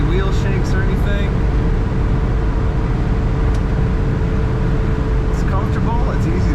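A 1965 Chevrolet Chevelle Malibu SS convertible with an automatic transmission accelerates down the road, a loud steady engine and road roar heard from inside, with someone talking over it.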